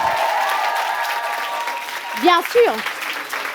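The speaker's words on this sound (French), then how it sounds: "je veux des tonnerres d'applaudissements pour le chevalier" An audience applauds a singer, a dense wash of clapping running under a voice that speaks and sings a short phrase over it.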